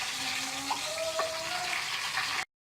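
Cumin and nigella seeds fry in oil over a medium flame, giving a steady close sizzle and crackle with a few brief pops, running unbroken for a couple of seconds before cutting off abruptly.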